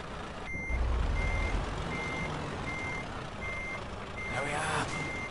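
In a truck-driving video game, a reversing truck's backup alarm sounds a steady series of evenly spaced electronic beeps over a continuous low engine rumble, with a hiss of air near the end.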